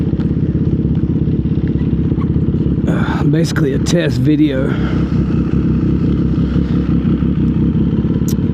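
A 2025 CFMOTO 675 SS with a full exhaust rides down the road, its engine droning loud and steady throughout, wind buffeting the microphone, while the rider talks over the noise.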